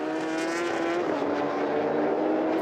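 Superbike racing motorcycles, a Ducati among them, screaming at high revs on a race circuit, a sustained loud engine whine with steady pitch from bikes passing close.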